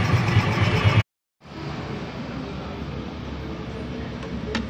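A Yamaha Jupiter Z motorcycle engine fitted with a new, cheap Keihin-branded carburetor runs with a steady close hum, broken by a brief cut in sound before it continues evenly.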